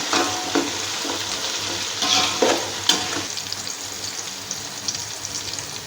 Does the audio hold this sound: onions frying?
yes